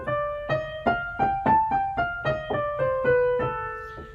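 A pitched instrument plays a scale beginning on A, eleven or so plucked-sounding notes climbing and then descending at a steady moderate pace, clear and close with no voices.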